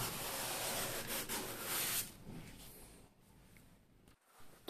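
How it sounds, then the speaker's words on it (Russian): Sandpaper rubbed back and forth over a leather car seat during a leather repair job, giving a steady broadband scratching that is loud at first and then eases to softer, intermittent strokes. "Сиденье мы наждачкой прошлись."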